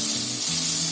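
Mushrooms frying with spices in a pan for a dhaba-style dish, a continuous close, bright sizzle and hiss lasting under a second, with a faint low hum beneath.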